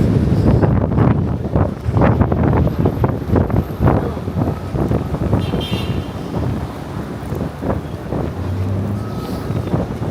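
Strong wind gusts across a Manhattan city street near 34th Street, roaring and buffeting loudly and steadily throughout with no pause.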